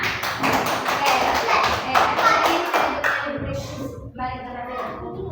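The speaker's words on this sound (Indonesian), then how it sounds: "Tepuk tangan dulu untuk semua teman-temannya." Students in a classroom clap for their classmates after a multiplication lesson, a brisk burst of close hand claps for about three seconds, then it fades into a voice speaking.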